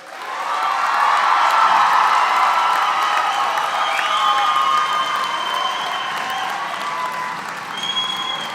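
A large audience at a college commencement ceremony bursts into sustained applause mixed with cheers and whoops for the new graduates, loud and continuous before tapering slightly.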